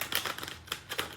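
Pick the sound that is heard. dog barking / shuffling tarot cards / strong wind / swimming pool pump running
shuffling tarot cards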